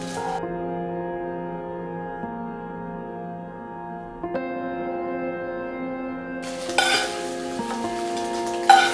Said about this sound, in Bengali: প্রথমে ডিমগুলো আমি ভেজে নেব।